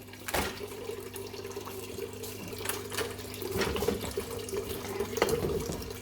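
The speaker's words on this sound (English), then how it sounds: "Now we open this tap." Water runs from an opened tap on a farm water filter system into a bucket, a steady close splashing flow over a low background hum.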